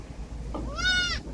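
A newborn goat kid, one of three, gives a single short, close, rising bleat amid quiet barnyard surroundings.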